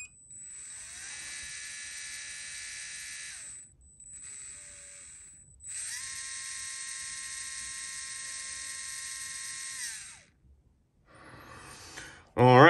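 A small electric spec motor spins on a Tunalyzer tester in two steady high-pitched whining runs, each starting and stopping cleanly with a brief pause between, then a short clatter of handling at the end.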